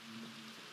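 Rain falling in Minecraft, a steady faint wash of patter lasting under a second with no voices.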